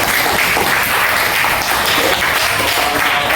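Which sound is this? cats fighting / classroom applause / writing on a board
classroom applause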